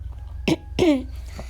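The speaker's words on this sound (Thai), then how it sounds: "ไอด้วยนะคะเมื่อกี้" A girl coughs twice, sharp and close, with a brief pause between the coughs and a faint trailing voice afterward.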